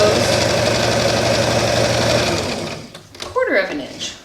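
Sewing machine runs steadily for about two seconds while stitching a 1/4 inch seam allowance, a loud close mechanical whir that then stops, followed by a few brief handling sounds and faint talk.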